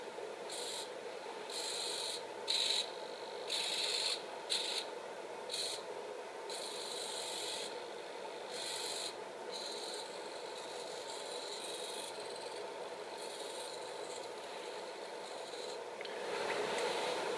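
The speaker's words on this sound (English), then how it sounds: "I've installed a simple test program on here to move the servos around" Small servos on a 12-servo BoosterPack for a TI Stellaris LaunchPad run a test program, giving a steady mechanical whir and rub with brief higher whining bursts early on, close and continuous with no talking.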